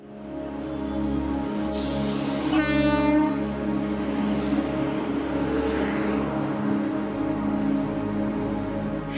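A train at the Vadnagar railway station rumbles heavily and steadily, with a loud horn blast partway through and fainter horn calls later over the continuous rolling noise.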